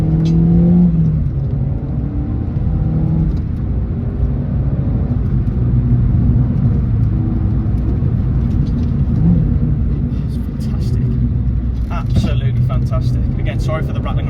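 A Renaultsport Clio 197 (non Cup Pack) engine drones and rises through the gears while driven through corners, heard from inside the cabin as a steady close rumble with shifting pitch and some rattling.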